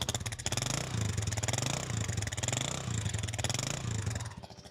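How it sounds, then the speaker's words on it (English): A fully rebuilt Kawasaki KLR motorcycle engine idles close by, a steady, even single-cylinder thrum with a light mechanical clatter, smooth and fairly quiet, with no voices. "Engine sounds nice and smooth and tight as you expect from a fully rebuilt bike."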